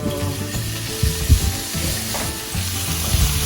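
Pork hitting a hot pan over low heat with onions, a bright continuous sizzle with scraping and stirring knocks layered on top; close and fairly loud, with no voices.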